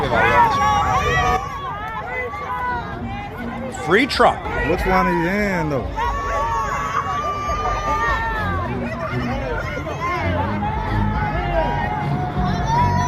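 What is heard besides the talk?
crowd cheering for Donald Trump outside courthouse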